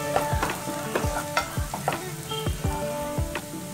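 Potato samosa filling with turmeric frying in a pan, a steady sizzle broken by repeated scraping stirs of a spoon against the metal, close and clear with no talking.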